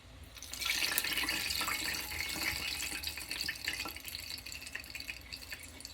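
Cooking oil is poured out of a pan in one steady, hissing liquid stream lasting several seconds at close range, with no talking over it.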